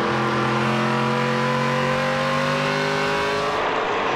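NASCAR Pinty's Series stock cars race at the 2017 Fall Brawl, engines roaring loud and close at sustained high revs as the pack thunders past, the whine sliding lower near the end.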